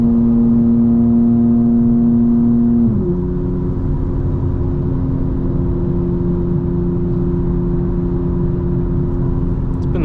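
2025 BMW M4 Competition xDrive engine droning loud and steady from inside the cabin as it accelerates past big trucks, a deep humming tone that shifts down partway through and holds.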